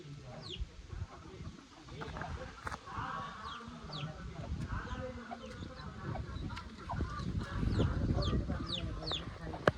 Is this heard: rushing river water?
no